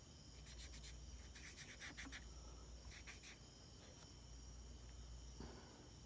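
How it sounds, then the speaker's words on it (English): Insects chirp steadily outdoors while someone draws with pastels, with faint scratching and rubbing strokes scattered under the continuous buzzing drone. "You've just been listening to bugs and pastels."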